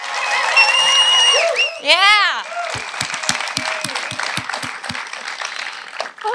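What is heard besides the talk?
audience applause at a festival award show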